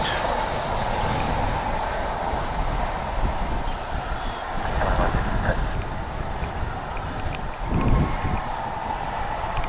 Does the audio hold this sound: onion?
no